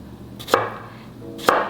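A knife chops twice through a peeled cucumber on a cutting board, each stroke a crisp, close thud about a second apart, with a quiet kitchen background and no voices.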